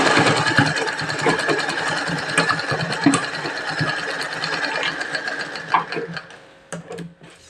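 Electric sewing machine stitching the seam of a prince-cut blouse, a fast close rhythmic whirring chatter of the needle that runs steadily, then slows and falters toward the end.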